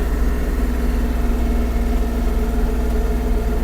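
Kubota GL-29 mini tractor engine running steadily nearby, a loud continuous low idle-like drone with an even, unbroken tone throughout.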